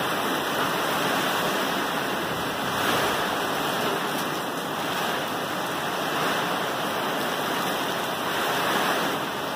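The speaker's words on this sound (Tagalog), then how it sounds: "Ayan o, paspas na naman ang ulan guys. Paspas yung ihip ng hangin niya." Strong typhoon wind and heavy rain from Typhoon Ulysses in Angeles City, Pampanga, Philippines, a loud, constant roaring broadband rush of wind and pouring rain, no voices.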